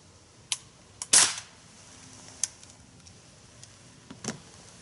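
Umarex Torq .177 break-action air rifle: one sharp, loud shot with a brief crack, set among a few smaller mechanical clicks and ticks before and after in a quiet room.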